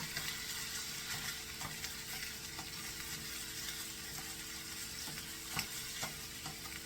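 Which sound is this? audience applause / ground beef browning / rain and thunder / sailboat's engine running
ground beef browning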